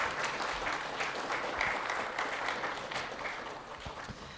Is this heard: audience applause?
yes